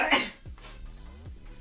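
A sharp burst of breath at the start, sounding like a single sneeze close up, followed by quiet low noises.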